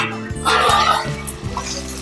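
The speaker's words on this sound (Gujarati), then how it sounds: "મેં એક બટાકું નાનું લીધું છે અને આટલા ત્રીસ ગ્રામ જેટલા વટાણા લીધા છે એને આપણે એડ કરી દઈશું સારી રીતે હલાવી દઈશું" Potato and peas stirred into a cooking pan for millet pulao, with a scraping, sizzling burst of stirring against the pan that swells briefly and then settles into a lighter sizzle.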